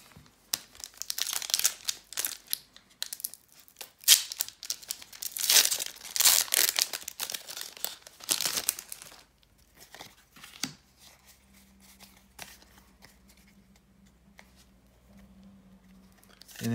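Pokémon card booster pack wrappers crinkle and tear loudly and close for several seconds, then fade to faint rustling and handling with a low hum toward the end.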